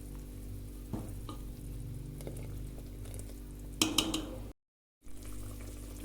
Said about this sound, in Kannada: ಕೊಬ್ಬರಿ ಹಾಕಿದ ನಂತರ ಈ ಥರ ಕುದಿ ಬರಲಿಕ್ಕೆ ಬಿಡಬೇಕು ಫ್ರೆಂಡ್ಸ್